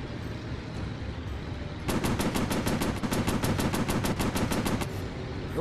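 Rapid machine-gun bursts from a WWII fighter plane in a VR flight combat game, a steady rattling stream of shots lasting about three seconds over continuous engine drone.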